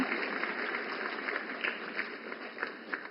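Crowd applause welcoming Ganga Sagar Didi onstage at the Sashakt Nari Viksit Bharat programme in New Delhi: dense, steady clapping from a large audience, sustained evenly throughout.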